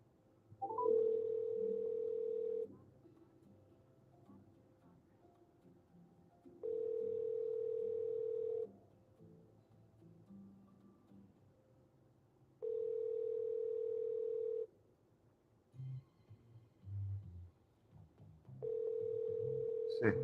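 A telephone dial tone comes through during a call, sounding as steady bursts of about two seconds with quieter gaps between them. Faint background sounds fill the pauses.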